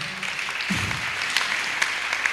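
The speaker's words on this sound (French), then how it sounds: "Est-ce que vous pouvez vous acclamer pour vous-même?" A conference audience claps for itself, a soft, steady patter of many hands heard from some distance, fairly faint and continuous.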